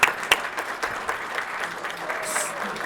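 An awards-event audience applauds the winner Roman Jewelers at a family business ceremony, a burst of dense clapping that opens sharply and carries steadily through the short stretch.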